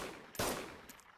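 A single gunshot fired in the survival video game DayZ, one sharp loud burst with a short decaying tail, followed by a couple of faint clicks.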